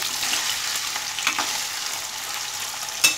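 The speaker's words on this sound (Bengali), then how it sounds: "পনিরটা দিয়ে দিয়েছি, হালকা ফ্রাই করে তুলে নেব।" Paneer fries lightly in a pan with a steady, close hiss of sizzling oil and a few small crackles near the end.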